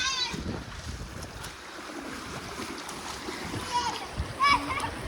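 People splash and wade through floodwater on a flooded village street after heavy rain, with scattered watery splashes and sloshing under excited voices and shouts nearby.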